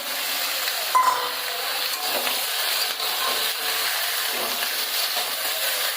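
Chickpeas fry in a pan over a gas flame while being stirred, giving a steady, fairly loud hiss with a brief scrape near the start and faint irregular crackles throughout.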